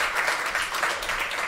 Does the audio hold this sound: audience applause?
yes